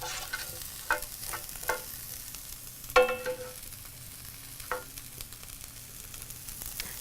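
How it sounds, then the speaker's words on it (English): Onion and broccoli stir-fry in a pan with a faint, steady sizzle, broken by a few close scraping stirs and clanks of a utensil. "So you want to go ahead and stir fry it for about 3 minutes or so."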